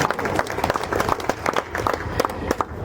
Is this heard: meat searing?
no